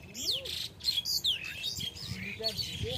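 Many birds sit in a row on a power line in Rajarhat and chirp and tweet close by. The calls overlap repeatedly over light background noise.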